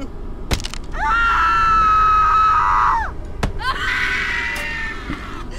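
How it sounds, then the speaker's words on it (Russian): Screaming in the horror video game Bunker 16: two long, loud, anguished screams, the first sustained about two seconds, the second following after a sharp crack, set against a low dark ambience. "Я слышу, как кто-то кричит снова."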